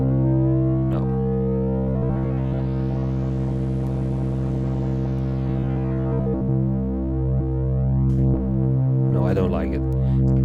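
Cross-modulation synth patch played on a Roland MV-8800, a sustained harmonic drone with a sweeping, swelling upper band that rises and fades over several seconds, then shifts pitch near the end, loud and continuous.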